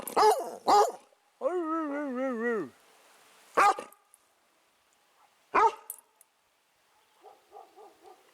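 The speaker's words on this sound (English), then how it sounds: "Who's that other dog? Can you speak to him?" A dog barks sharply a few times at another dog on a passing boat, lets out a long wavering howl, then gives quieter yips and whines near the end, with pauses between, in the wilderness.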